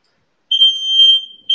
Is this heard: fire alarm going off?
yes